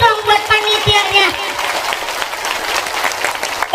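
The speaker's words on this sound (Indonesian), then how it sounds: "Tepuk tangan dulu dong buat panitianya." Audience applause for the organizing committee during a humorous Indonesian Islamic sermon by a female preacher; loud crowd clapping that rises after a brief voice at the start and carries on steadily, with some cheering in the mix.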